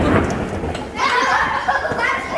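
Thunder from nearby lightning during rain rolls as a broad, loud rumble close by, with voices and children's sounds mixed in.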